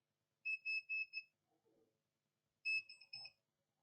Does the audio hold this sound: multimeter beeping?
yes